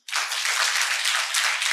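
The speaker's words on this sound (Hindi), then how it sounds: "जोरदार तालियां।" A burst of audience clapping at a Buddhist gathering in Yavatmal, Maharashtra: it starts abruptly and stays dense and lively throughout, with no voices heard.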